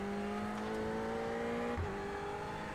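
Ferrari 488 GT3 race car engine in a racing game at Bathurst during practice, a steady sustained drone at near-constant revs that dips briefly near the end, alone with no talk.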